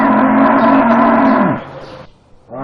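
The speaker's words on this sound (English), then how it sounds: "Cows use different sounds to communicate." Cattle on a farm give one long, loud, close moo lasting about a second and a half. It fades out, and a second moo begins just at the end.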